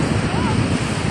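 Strong sea waves surge and wash continuously in a dense, loud roar, with wind buffeting the microphone and no clear pauses in the surf.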